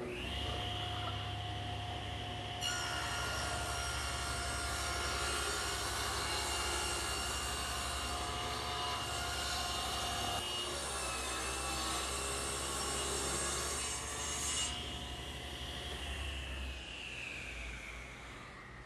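A table saw rips a board along the fence, trimming an eighth of an inch off the edge: the blade's steady whine rises as the cut begins, holds through a long continuous pass, then falls away as the saw runs free.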